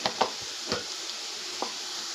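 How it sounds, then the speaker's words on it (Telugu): A spoon works garlic, salt and chili powder through potatoes frying in a pan for an aloo fry, giving a few quick scraping strokes over a steady background sizzle, close and alone. "బాగా మిక్స్ చేసుకుందాం"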